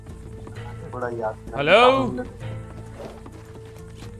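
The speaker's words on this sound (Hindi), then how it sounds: "कुछ नहीं यार, घोड़े तो आ रहे हैं" Horses clip-clop in Red Dead Redemption 2 roleplay, a soft rhythmic hoof patter beneath someone speaking a brief greeting, with a horse whinny swelling in the middle.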